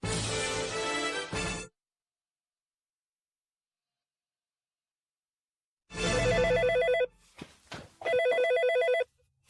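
Telephone ringing with a bright trilling bell, one burst, a long silent gap, then two more bursts broken by a brief pause.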